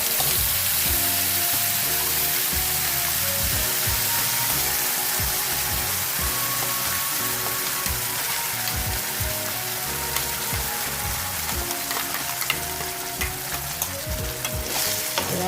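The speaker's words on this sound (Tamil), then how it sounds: "இதில் கருவேப்பிலை போடணும் போட்டு இந்த சட்னியை இதில் ஊற்றணும்" Loud, steady sizzling and crackling as chutney goes into hot oil tempered with curry leaves, with continuous frying hiss and occasional stirring scrapes throughout.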